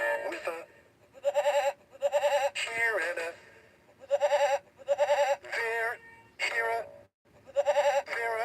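Goat bleats from a See and Say toy, sounding in several short, loud, wavering bursts between pauses, mixed with the toy's sung farm tune.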